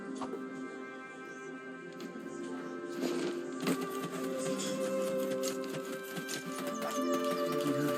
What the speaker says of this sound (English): Ride horses in the open field.